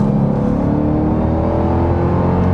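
A Dodge Durango SRT Hellcat V8 engine growls loudly and steadily up close, a deep throbbing rumble that holds without a break.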